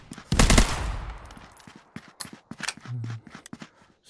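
Gunfire from an M16 rifle in the VR shooter Gunsmoke: a loud close burst of shots near the start, then scattered sharper single cracks and clicks fading out over a few seconds.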